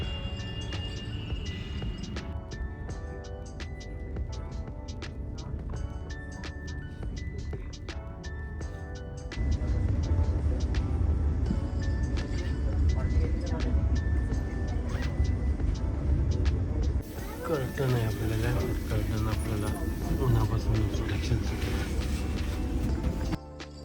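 A Vande Bharat Express pulling out of Pune Junction, heard from on board as a steady rumble with rattling and clicking that grows louder partway through, and a few faint voices underneath.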